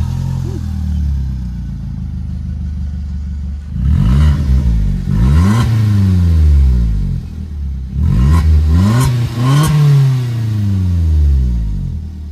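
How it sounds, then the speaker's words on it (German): An Opel Corsa D engine idles with a deep, throaty exhaust rumble, then revs up sharply several times in bursts, each rising and falling back to a loud, close growl. "Wir haben jetzt gerade schon über den Auspuff geredet, aber wie hört der sich denn an?"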